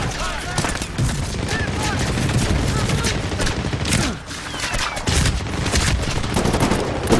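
Gunfire in the Medal of Honor: Warfighter video game, dense and continuous loud bursts of shots with booming impacts, and voices talking underneath.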